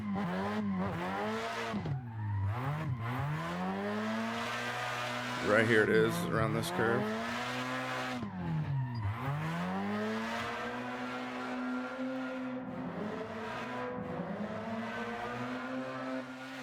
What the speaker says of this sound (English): when you go under those rocks, the sound changes on the exhaust